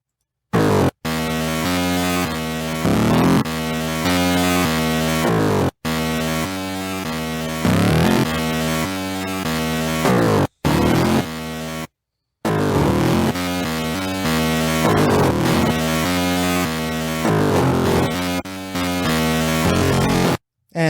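Loud, harsh oscilloscope music playing in segments: dense buzzing synth tones with shifting pitches and rhythmic pulses, broken by brief silent gaps.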